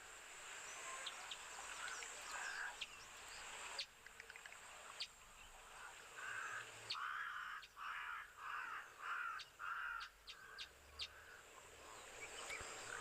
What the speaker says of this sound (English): So just a moment just to listen to the bird life that is around.